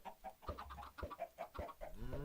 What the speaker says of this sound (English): we're definitely gonna get a chicken out of this.